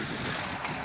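Steady, rushing wind noise buffeting the microphone outdoors on a chilly day on the Ireland Way trail, a constant broadband roar with no voices.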